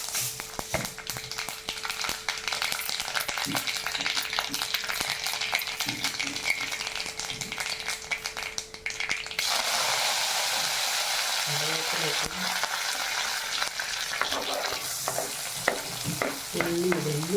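Mustard seeds fry and crackle in hot oil in a home kitchen pan while carrots are being cooked, a dense continuous sizzle that swells louder partway through, with brief stirring knocks and faint voices in the background.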